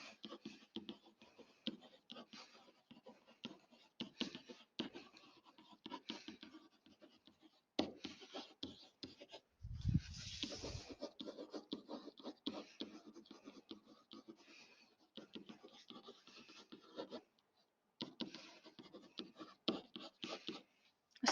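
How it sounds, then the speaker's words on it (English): Writing on a board makes intermittent scratchy strokes in short bursts with pauses between them, fairly quiet and close, and no voices can be heard. "Let's write that down nice and big."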